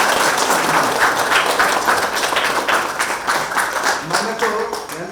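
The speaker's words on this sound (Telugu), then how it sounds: "ఈరోజు వారికి సందర్భంగా గట్టిగా చప్పట్లు కొడదాం." Audience clapping at a pyramid opening event, a dense steady patter of many hands held at an even level for several seconds.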